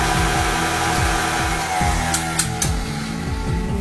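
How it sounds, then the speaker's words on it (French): A stand mixer beats eggs and vanilla into brownie batter for a pumpkin marbled brownie, giving a loud, constant motor whir with a rhythmic churning beat and a few brief clicks. "pendant lesquelles on laisse actionner notre super batteur sur socle"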